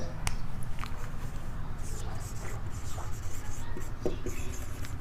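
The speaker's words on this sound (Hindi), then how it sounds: "मैं डेफिनेशन लिख देता हूं।" A definition is handwritten on a board or page, with faint scratchy strokes in short bursts over a steady low room hum.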